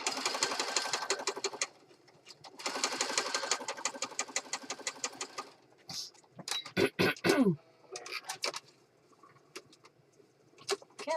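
A sewing machine stitches through junk journal pages in fast rhythmic bursts, two sustained runs early on, then scattered short clicks and thumps from handling nearby.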